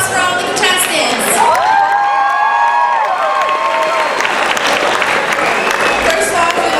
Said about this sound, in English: Round of applause for all the contestants.